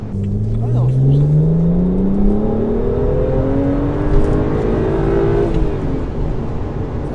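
A BMW 1M car engine revving loudly while drifting, pitch climbing in long smooth pulls through the gears and then dropping off, close and dominant with tire noise beneath.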